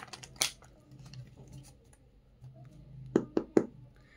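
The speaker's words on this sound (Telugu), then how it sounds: "సో లాస్ట్ షఫుల్ అండి, ఇంకొక షఫుల్ చేసి నేను తీస్తాను కార్డ్స్." Tarot cards being shuffled by hand in a quiet room, a soft riffle early on followed by three sharp snapping card taps close together near the end.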